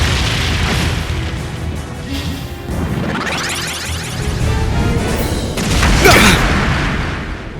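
A Brionac cannon fires in Trails of Cold Steel III, a loud booming blast with a rushing whoosh building midway and a final bright crashing burst near the end, no talk.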